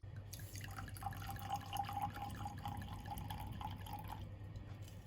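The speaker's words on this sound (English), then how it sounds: "give it a little pour." Red Bordeaux wine, a roughly even Merlot and Cabernet blend, is poured from the bottle into a glass, a close, steady trickling gurgle lasting several seconds with no talking.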